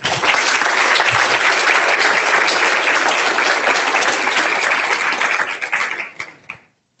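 Loud, dense audience applause welcoming a lecture speaker at a talk on insulin prices in America, sustained steadily for about six seconds before tapering off quickly into a few last claps.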